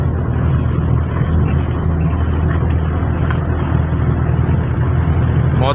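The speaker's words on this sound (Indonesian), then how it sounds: "Motor masuk tol," A motorcycle rides along a Malaysian toll road with a continuous, loud rush of engine drone and wind and road noise, with no talking.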